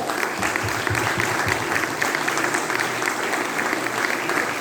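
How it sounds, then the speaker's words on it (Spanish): An audience applauds steadily for several seconds, a dense, even clapping that holds at a moderate level throughout. "Merecido el aplauso."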